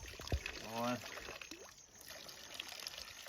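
Cold natural spring water flows from a mountain source in the Dhauladhar range near Palampur, making a steady, faint rush and trickle throughout, with a brief voice near the start.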